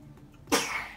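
A single sharp sneeze bursts out after a short quiet stretch, loud and close, then trails off.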